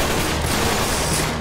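Dense, continuous gunfire in Uncharted 3, loud and close, a relentless wash of rapid shots with no pauses and no talking.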